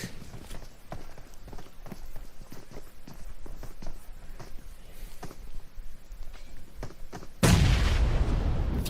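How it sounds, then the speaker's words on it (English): Grenades go off in PUBG Mobile during a grand final match, ending in a loud, sustained blast roar after a stretch of scattered thumps and rustling footsteps, with no voices. "Three nades."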